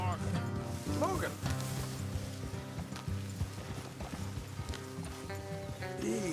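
In the video game Red Dead Redemption, hooves clip-clop in a steady rhythm while a horse snorts and whinnies, with a voice talking over the scene.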